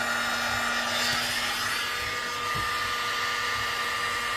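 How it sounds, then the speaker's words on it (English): Heat gun blowing hot air onto heat shrink tubing over a soldered butt splice, a steady continuous rushing whoosh close up throughout, with no talk. "Handy dandy heat gun."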